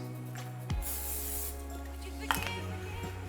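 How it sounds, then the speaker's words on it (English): A can of oil spray coats a pie tin in two short hissing bursts, the first just under a second long and the second briefer, close by against a quiet kitchen background with a low hum. "we're going to take our pie tin after we take our oil spray"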